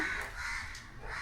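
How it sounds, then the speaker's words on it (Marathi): Crows caw loudly and continuously, several harsh calls overlapping close by with no talking. "इकडे बाहेर चाललं आहे कावळ्यांचा कावकाव कावकाव"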